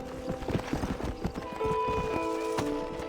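Galloping hoofbeats from a horse in the Red Dead Redemption video game, a quick steady clip-clop close up with a faint tonal game sound layered in partway through.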